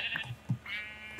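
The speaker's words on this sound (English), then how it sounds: "So here is a little sheep slaughter." Sheep in the Minecraft video game bleat softly, giving a couple of short bleats close together over a quiet background.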